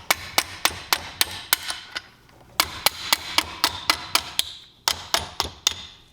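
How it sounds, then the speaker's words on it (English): A rubber mallet hammers a 3/8 extension to drive a stuck shaft out during a Seadoo 951 engine teardown: a quick run of sharp, ringing knocks, a short pause, then two more bursts of rapid strikes, close and loud. "So you gotta put your 3/8 extension in and hit it out with a rubber mallet."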